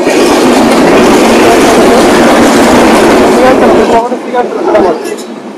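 A loud train roars past close by with a rushing, rattling rumble that fades near the end, a few voices faintly audible underneath.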